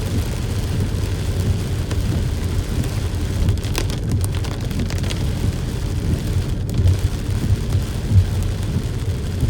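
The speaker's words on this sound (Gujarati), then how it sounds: "વરસાદ પણ બહુ જોરદાર પડી રહ્યો છે" Heavy rain falls while a car drives along a road beside a canal, heard as a dense, steady rumble and hiss inside the vehicle with no break throughout.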